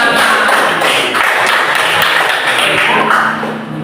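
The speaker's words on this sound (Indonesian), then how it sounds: "Ya, tepuk tangan." Classroom clapping from a group of students during a teaching practice lesson, a dense continuous patter of many hands held steady for several seconds and easing slightly at the end, with no talk over it.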